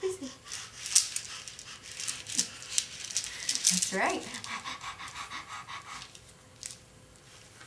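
A child imitates a puppy panting with quick, breathy rhythmic huffs, close to the microphone, interspersed with an adult's brief spoken encouragement and some light rattling.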